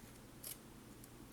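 Scissors snip through a rigid acetate sheet for a scrapbooking shaker, giving a couple of short, crisp cuts against a quiet background.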